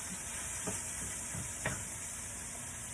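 Vegetables and seasonings fry in a pan with a close, continuous sizzle and occasional light stirring scrapes and taps.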